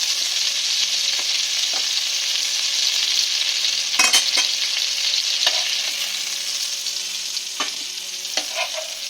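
Prawns sizzle steadily in hot oil in a frying pan, a loud continuous crackle broken by occasional sharp clicks and scrapes of stirring.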